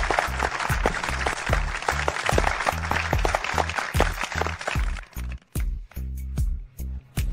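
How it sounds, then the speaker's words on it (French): Applause for a gold medallist at a ceremony, a dense crowd clapping loudly and continuously, then thinning into a few scattered bursts before dying away, with no one speaking. "Accueillons par une salve d'applaudissements le médaillé d'or de cette année"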